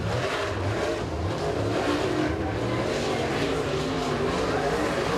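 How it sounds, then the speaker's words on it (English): A second super late model race car runs out on the Eriez Speedway track with a sustained engine roar that rises and falls slightly as it revs, with a faint voice underneath. "Second car out there in the 7J, that's Kyle Bizzell"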